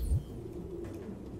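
Pigeons in Detroit: Become Human give a soft, low, muffled coo over a quiet background hum, faint and somewhat distant.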